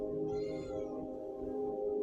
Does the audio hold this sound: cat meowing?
yes